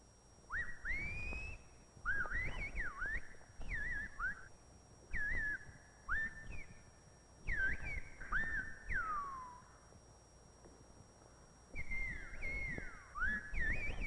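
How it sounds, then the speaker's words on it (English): Whistled speech of La Gomera in the Canary Islands, a language carried over long distances: a series of loud, gliding whistled phrases rising and falling in pitch, separated by short pauses, with no spoken voice. "the Gomeras contrived an extraordinary form of telephonic speech, whistling"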